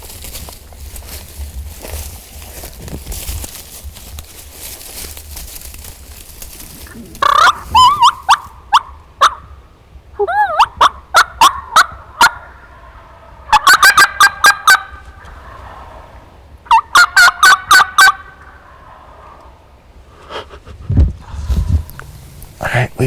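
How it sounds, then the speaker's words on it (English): Wild turkeys gobble in a field during a spring turkey hunt, with several loud rattling bursts coming in quick clusters, some near and some farther off, between stretches of quiet rustling. "We had the group of birds in the field fired up."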